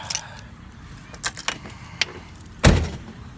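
Bright jangle of truck keys being grabbed, several metallic rattles spread across the moment, with a heavier clatter near the end, close and fairly loud against quiet room tone.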